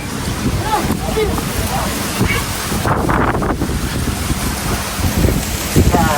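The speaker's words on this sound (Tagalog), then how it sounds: "Lakas ng hangin, grabe" Strong wind roars and buffets the microphone in loud, broadband gusts, with a rushing, surf-like texture throughout.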